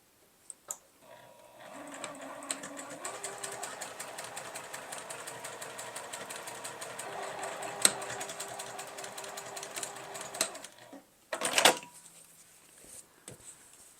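A sewing machine stitches cross-hatching lines at a 3mm stitch length, running at a steady even hum for about nine seconds before stopping, followed by a brief close rustle of handling.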